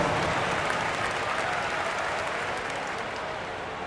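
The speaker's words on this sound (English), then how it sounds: "Give yourself a round of applause." Arena crowd applauding at a basketball game in Utah, a dense steady wash of clapping that fills the whole stretch and fades slightly toward the end.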